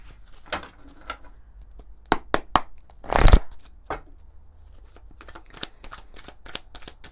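Oracle cards from a love-compass deck being shuffled by hand, a run of crisp riffling flicks with one louder, denser burst midway, fairly close and alone with no talk.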